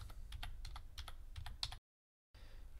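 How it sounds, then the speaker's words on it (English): Keys clack in a quick, even run on a computer keyboard as a short prompt is typed into photo-editing software, close and fairly soft, stopping abruptly into silence before the tapping picks up again. "we're going to type in the prompt"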